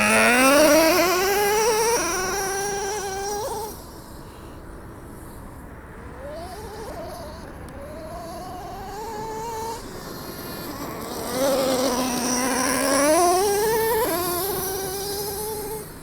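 A Traxxas Revo 3.3 nitro RC monster truck engine runs loud and close, its high buzzing whine rising and falling with repeated throttle blips and revs.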